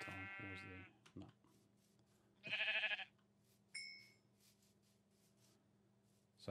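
Two or three distinct sheep bleats from Minecraft, with an All The Mods modpack on 1.9.4, one loud and close near the middle, set against a low game hum with a brief voice.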